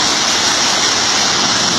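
Steady, full rush of flowing water, like a stream or small waterfall, continuous and close with no pauses and no voices.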